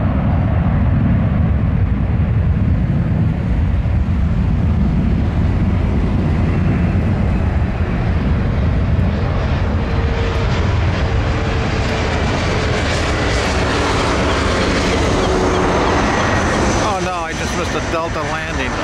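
A Delta airliner lands at Boston airport, its engine roar loud and continuous throughout, with a shifting rumble near the end and people talking underneath.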